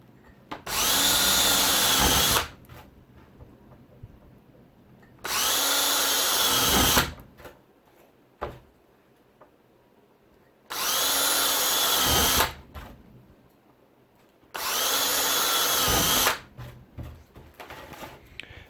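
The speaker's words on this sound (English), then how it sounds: "start to go and drill a whole bunch of holes" A power drill whines in four separate bursts of about two seconds each, drilling holes in a Lexan switch panel, with quiet pauses and small handling clicks between them.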